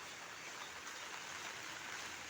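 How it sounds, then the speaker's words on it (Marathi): Rainwater pouring over from the gutters of tin-sheet roofs during steady monsoon rain on a street in Bhor, heard as a continuous broadband rush of flowing water, fairly even and close, with no voices. "पत्र्यांच्या पन्हाळ्यांवरून पाणी ओसंडून वाहत आहे"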